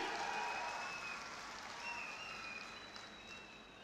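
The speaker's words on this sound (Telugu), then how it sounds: "మీరందరూ కూడా గట్టిగా చప్పట్లు కొట్టి అభినందించండి." An audience at a political gathering for Andhra Pradesh Chief Minister Chandrababu Naidu claps in a dense, steady wash of applause that stays fairly distant and gradually eases off slightly.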